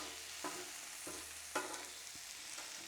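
Cheesesteak meat sizzles steadily on a Blackstone griddle, with a few soft scraping knocks from a spatula pushing portions across the hot flat-top, close and continuous with no voices.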